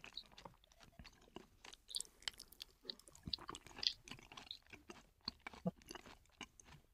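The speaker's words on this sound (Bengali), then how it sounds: "আমি একটা বাইট দিচ্ছি মানে সবগুলো মিক্স থাকে" Soft, close chewing of a mouthful of white chicken biryani with lemon, with irregular wet smacks and small crunchy bites spread through a quiet room and no speech.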